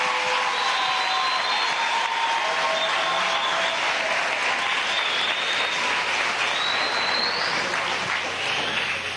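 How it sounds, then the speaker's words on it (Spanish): A large gathering at a Venezuelan government working session breaks into sustained applause, a steady dense wash of clapping that stays loud and even throughout with faint crowd noise beneath. "Un aplauso para cada uno y para cada trabajo que estamos haciendo."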